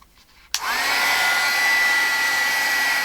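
A hair dryer blows steadily on a piece of mixed media collage art to dry wet paint, starting abruptly after a brief quiet moment and then running loud and constant with a high whine.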